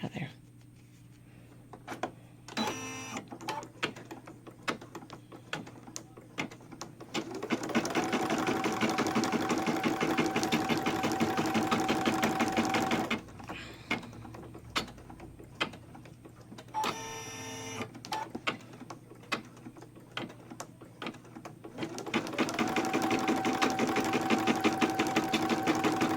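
Embroidery machine stitching an appliqué tack-down, rapid rhythmic needle chatter in two long runs with a steady hum, broken by short pauses and clicks.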